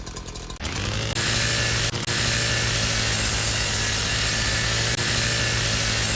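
A chainsaw runs in a video game with a loud, steady buzzing drone that starts after a brief pause and holds at full roar, with only small dips in level.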